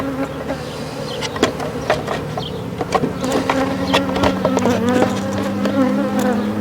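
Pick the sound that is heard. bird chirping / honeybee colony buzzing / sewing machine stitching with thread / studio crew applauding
honeybee colony buzzing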